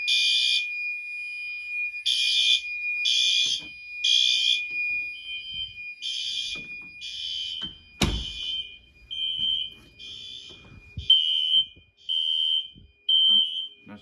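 A security system's fire alarm sounds during a system test, giving loud repeated high-pitched electronic beeps in bursts, with a short break midway and a sharp clack near the middle.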